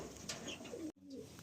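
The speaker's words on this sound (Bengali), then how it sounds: "দেখুন মালবাই পায়রা" Soft, low cooing from a white-bodied Malbai pigeon in a loft in Kolkata, a brief throaty call heard up close with light background noise and no talking.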